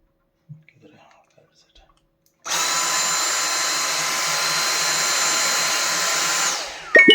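A Dyson V6 cordless vacuum cleaner switches on after a few soft clicks and runs with a loud, high-pitched whine for about four seconds before cutting off, close to the microphone.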